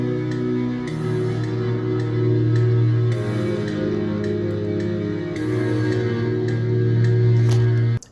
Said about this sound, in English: And this one is called Bitter Bell and it sounds like this.